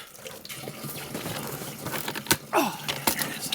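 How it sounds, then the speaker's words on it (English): Warm water, about 45 degrees, is poured onto the frozen lid of a spring box in Alaska, giving a close, continuous splashing and trickling with a few louder gushes toward the end. "Put some of this like 45-degree water on it"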